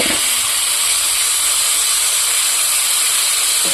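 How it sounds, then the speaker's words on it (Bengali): Food frying in a pan on a home kitchen stove gives a loud, steady sizzling hiss that runs unbroken throughout, with a faint clink at the start and end. "সেইগুলোকে আমি ভালো করে ভেজে নেবো"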